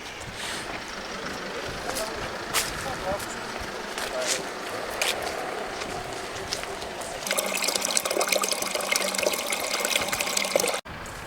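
Running water from a cemetery tap splashes and trickles, growing louder and steadier toward the end as a container fills, with people talking nearby early on.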